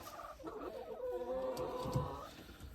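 Farm chickens clucking and crooning near baby chicks, a drawn-out run of throaty, pitched clucks rising and falling in overlapping phrases, close and fairly loud.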